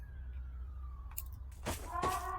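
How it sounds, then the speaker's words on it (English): A faint wailing police siren in a Roblox video game with a descending tone, then brief harsh bursts and clatter over a low rumbling background. "I heard the sirens. They knew I was here."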